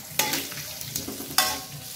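Blended spice paste sizzles as it fries in hot oil in a home kitchen, a continuous crackling hiss broken by several sharp utensil scrapes and knocks from stirring.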